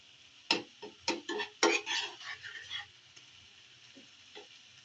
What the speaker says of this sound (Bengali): এবার আমি এগুলো দিয়ে নাড়তে থাকবো। পেঁয়াজটা একটু লাল করে নেব